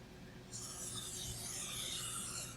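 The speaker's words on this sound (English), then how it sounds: "Now this is a trimmer that only cuts the backing." A trimmer that cuts only the backing gives a steady, close, rasping scrape. It starts after about half a second and runs continuously with no voices.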